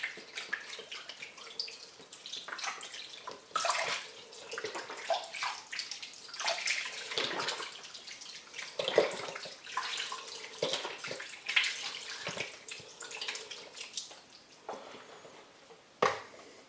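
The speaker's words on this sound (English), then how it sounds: "The next step is we're going to put beef stock" Beef stock poured from a 32-ounce box into a slow cooker holding a venison neck roast, a steady splashing, gurgling liquid pour with short bursts and pauses, close by with no talk.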